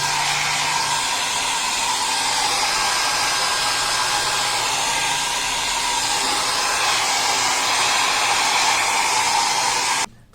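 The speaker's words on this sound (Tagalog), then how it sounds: "Blower muna natin, patuyuin natin para siguradong hindi kakalat yung ating acrylic." A blower runs continuously at a loud, steady whoosh for about ten seconds, drying acrylic paint on a craft project, then cuts off abruptly.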